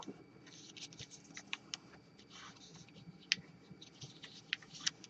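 Colored paper is folded and pressed down for an origami frog, with soft close rustles and crisp creasing snaps scattered through the quiet.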